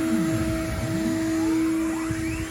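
A flatbed overhead gantry CNC machine with a 5.5 kW spindle runs on a three-phase supply in a workshop, giving a loud, steady tonal whine with a shifting motor hum beneath it, close and continuous throughout.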